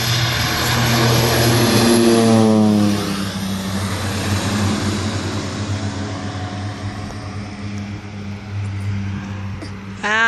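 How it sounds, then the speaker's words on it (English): A Winair de Havilland Twin Otter propeller plane departs Canefield Airport, its engines roaring loud and close at takeoff power, then fading into the distance as it climbs away. "Winair, Twin Otter PJWCD, departure at the Canefield Airport, Saturday afternoon."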